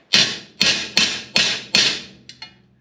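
Five sharp metallic hammer strikes from a body hammer on an engine part of a GMC 302 inline six in steady succession, each ringing briefly, followed by a couple of lighter taps, close and loud.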